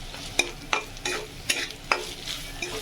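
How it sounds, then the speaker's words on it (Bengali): Dry grated coconut and mustard mix being stirred and fried in a pan for a prawn dish: soft rhythmic scraping strokes about every half second over a faint, steady sizzle, with no voices. "একদম নাড়িয়ে চাড়িয়ে সুন্দর করে ভাজবো এটাকে।"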